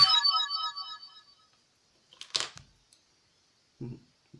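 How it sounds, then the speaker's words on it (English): A mobile phone rings with a bright, tonal melodic ringtone that sounds once and fades out, followed by a couple of soft handling knocks in a quiet room. "It's my phone."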